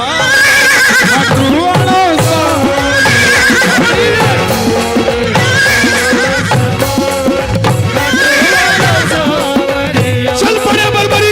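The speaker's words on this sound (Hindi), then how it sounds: "घोड़े" Horses neigh again and again in loud, shrill whinnies that rise and fall at regular intervals over dense devotional music, with a possible voice underneath.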